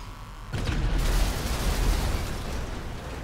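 A tank's cannon fires in GTA 5, heard as a sudden deep boom after a short quiet lead-in, then a sustained low rumbling roar that holds loud for the rest of the moment.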